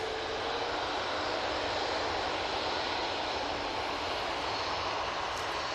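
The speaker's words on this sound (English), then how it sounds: "A320neo on the roll." An Airbus A320neo jet rolls for takeoff at Manchester Airport, a dense, even engine roar that stays strong and constant throughout the short stretch, with no talking.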